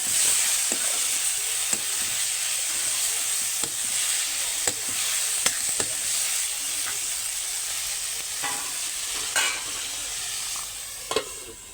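Drumstick leaves (munga bhaji) cooking in a pan, a continuous hissing sizzle with occasional sharp clinks and scrapes from stirring, close by and fairly even in level, with no voices.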